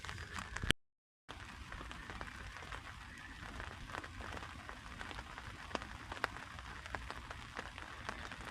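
Rain patters steadily on a tarp shelter pitched outdoors, a soft, dense crackle of drops with occasional sharper taps, close and unbroken apart from one brief dropout near the start.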